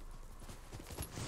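Horse hooves gallop in the video game Ghost of Tsushima, a quick rhythmic clip-clop running steadily under constant game background sound.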